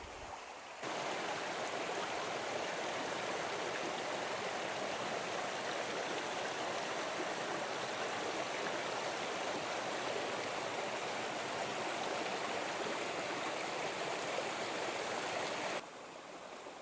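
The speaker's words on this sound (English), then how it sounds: "Little creek crossing here." Sims Creek, a small creek at a trail crossing on Green Knob Trail, gives a continuous close rushing of water with no pause or voice.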